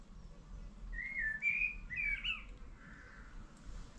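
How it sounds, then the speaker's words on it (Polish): Several short, clear bird whistles and chirps ring out in a quick phrase over a low, steady background rumble on a May morning outdoors. "Czy słyszycie jak te ptaki śpiewają?"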